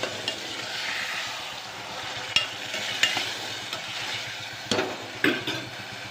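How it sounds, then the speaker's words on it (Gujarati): Tuvar (pigeon pea) beans sizzle in a tempering (vaghar) in a pan, a steady hiss of frying with a few sharp spoon clinks and stirring scrapes now and then. "મસ્ત મજાનો તુવેરના દાણાનો વઘાર થઈ ગયો છે."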